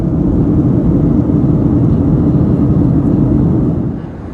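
Inside the cabin of a packed Qantas Boeing 737, a loud, deep engine roar rumbles steadily during takeoff, easing slightly in the final moments.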